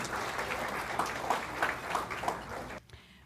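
Audience applause at an awards ceremony, a dense even patter of many hands that cuts off abruptly near the end.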